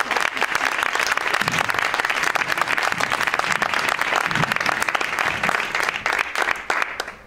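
An audience at a talk on care work breaks into sustained, dense applause, loud and close, that holds steady for several seconds before tapering at the end.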